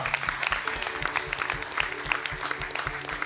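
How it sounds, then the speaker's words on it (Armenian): A church congregation at a Christmas service claps in a regular rhythmic beat, evenly spaced hand claps repeating steadily over a faint background of crowd sound. "եկեք եւս մեկ անգամ մեր ծափերը բարձրացնենք Տիրոջը"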